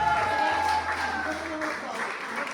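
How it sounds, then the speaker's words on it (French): Wedding guests applauding at a reception, a soft wash of clapping under overlapping chatter and a sustained tone, fairly even in level from start to finish. "On peut les applaudir bien fort s'il vous plaît"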